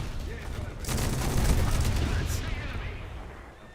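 Bursts of rapid gunfire and dull booms rattle in a naval battle video game, heavy incoming shots striking the player's warship in a dense, continuous volley that swells and then slowly fades.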